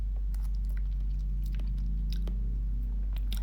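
Close-up chewing of a snack being tasted, soft wet crunches and bites repeating irregularly over a loud constant low hum.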